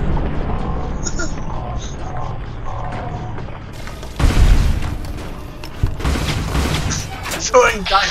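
Missiles strike a Hardened Mr. Gutsy robot in Fallout: New Vegas, with deep booming blasts and crackling explosion bursts in several loud hits while a voice talks over the game.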